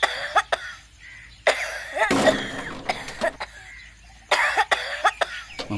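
A child with flu coughs in repeated harsh bursts, close and clear, some in quick clusters, with short quiet gaps between fits.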